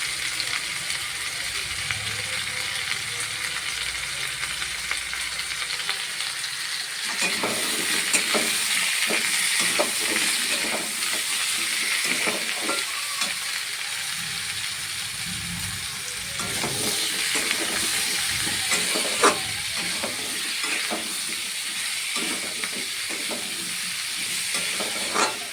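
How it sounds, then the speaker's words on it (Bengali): Potatoes sizzle in a pan, a quieter frying hiss at first, then a spatula scrapes and clatters in an irregular rhythm of stirring strokes over the continuous crackle, close and fairly loud. "একটু ভাজা ভাজা হয়েছে আলুগুলো"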